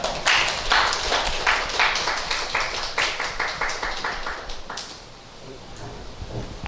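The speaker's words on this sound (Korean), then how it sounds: "박수로 맞아주시면 감사하겠습니다" Audience applause welcoming speakers at an artist talk in a Korean art museum, a dense burst of clapping that swells quickly then tapers off, fading toward the end.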